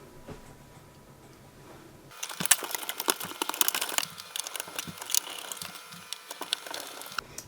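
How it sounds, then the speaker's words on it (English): Case screws being driven back into a Dell 486P computer case: quiet at first, then a run of small close ticks, clicks and metallic rattles from the screwdriver and screws, no talk. "let's put the case screws back in"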